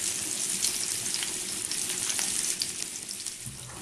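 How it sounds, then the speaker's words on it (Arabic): Eggs frying in hot oil that was first used for onions, a steady dense sizzle that carries on without a break, close and fairly loud, with no talking. "وفي نفس الزيت ومنين نحيد البصله غادي نقلي البيض"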